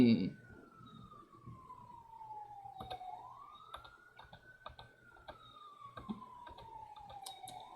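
An ambulance siren passes outside, its long wailing tone rising and falling at moderate distance, heard indoors alongside scattered computer keyboard clicks and taps.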